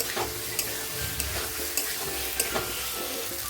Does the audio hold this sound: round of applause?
no